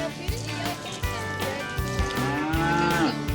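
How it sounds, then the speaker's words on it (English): Miniature zebu cows give deep, drawn-out moos, several low calls in a row at close range, with faint sloshing or background noise between them. "They're called zebu cows."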